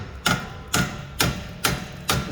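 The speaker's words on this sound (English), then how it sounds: "Get your little hammer out, give it a little tap." Five evenly spaced metallic taps from a small hammer striking a car's front strut during a strut replacement, each sharp and close, against a low background hum.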